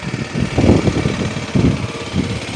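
A 2018 Aprilia SX 125 motorcycle engine running at idle, a close, loud, steady mechanical rumble with slight rhythmic swells and no talk over it.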